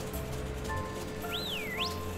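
Whistling in the Pokémon Scarlet and Violet DLC video game: a short swooping whistle that dips then rises sharply, heard alone over a low, steady game background hum.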